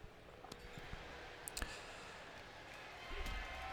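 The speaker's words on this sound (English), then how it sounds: "you can hear me typing" A few faint, scattered keyboard clicks tap out irregularly over a steady background hiss, with a low rumble rising near the end, during WWE 2K25 wrestling gameplay.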